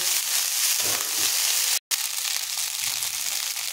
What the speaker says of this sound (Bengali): দিয়ে ভাতটা ভালো করে আমি ভেজে নেব।